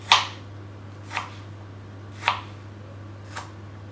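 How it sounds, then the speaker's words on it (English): A knife chops through a peeled, cored apple on a board, cutting it into tiny cubes: four crisp, separate knocks spaced about a second apart, close and clear with no talking. "now we're going to chop it into tiny cubes"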